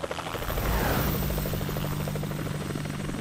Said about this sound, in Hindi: वो मेरा हेलीकॉप्टर है